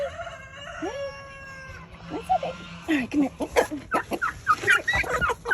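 An aggressive rooster crows at first, a drawn-out call with harmonics, then clucks in quick, loud bursts close by, while a person talks softly to the bird.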